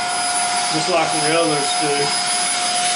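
A Shark ion F80 Duo Clean vacuum cleaner runs with a steady, high-pitched motor whine throughout while a person talks over it up close.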